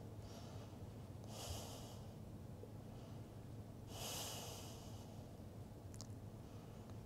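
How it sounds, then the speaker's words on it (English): Slow nasal breathing during a yoga flow for the hamstrings, two long soft exhales about three seconds apart, quiet and close over a low steady background hum. "Breathing in and out through the nose."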